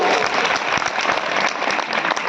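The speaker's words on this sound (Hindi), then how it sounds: "एक बार ताली इनके भी हो जाओ भाई" Crowd at a birth-anniversary procession for Rajmata Devi Ahilyabai Holkar in Anjad town applauding steadily, dense close clapping sustained throughout with no talk over it.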